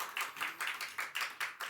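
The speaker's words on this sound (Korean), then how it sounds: "박수." Clapping from a church congregation at a Sunday service, a steady rhythmic beat of about eight evenly spaced claps, quiet and somewhat distant.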